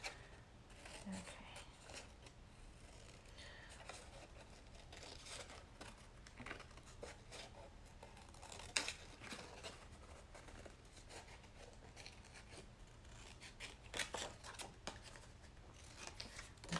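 Soft snipping and crinkling of scissors cutting through paper, irregular and quiet, with occasional louder snips and faint handling noise.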